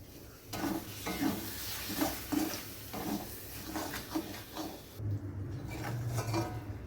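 Palak keema being stirred in a pan after a piece of butter goes in: a steady sizzle with repeated scraping and stirring strokes of a utensil against the pan, close and fairly quiet, with no talking.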